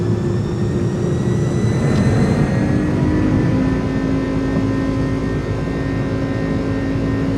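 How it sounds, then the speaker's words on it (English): Steady, loud roar of a jet airliner on its takeoff roll in Microsoft Flight Simulator, a broad engine rumble with a high turbine whine held constant throughout, no voices. "Enjoy the departure, my friends. It's gonna be a long takeoff roll today."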